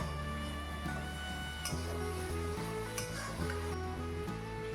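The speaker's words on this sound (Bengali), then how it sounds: "এবার ভালোভাবে এটাকে মিশিয়ে নেব" Soybean mixture being stirred with salt, turmeric and other ground spices, giving a steady soft scraping and mixing texture over a continuous background hum, with a few brief clinks.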